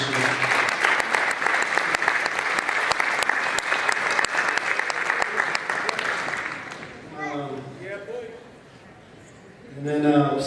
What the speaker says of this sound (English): I just want to give these 11 basketball players a round of applause for the way they carry themselves this year.